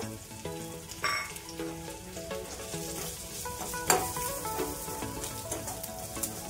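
Grated coconut fries with browned onion in a pan, sizzling steadily and close, with a few stirring scrapes and a sharp clink partway through, and soft tonal sounds underneath.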